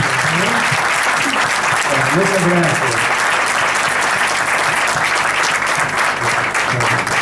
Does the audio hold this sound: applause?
yes